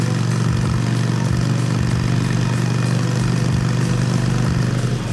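Motorcycle engine idling on an early morning ride, a steady low throbbing rumble that runs loud and continuous throughout with no talking.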